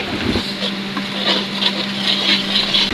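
Close, repeated scraping and stirring of spice paste in a pan, a rhythmic rubbing sound over a low steady hum, with no voices.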